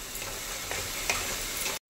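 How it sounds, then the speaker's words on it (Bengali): A paste of onion, ginger, garlic and green chilli fries in a pan with a soft, continuous sizzle, a few faint stirring clicks on top, and a sudden cut to silence at the end. "পেঁয়াজ আদা আর হলো রসুন কাঁচা লঙ্কা এই পেস্টটা আমি যে দিয়ে দিচ্ছি এটা ভালো করে ভেজে"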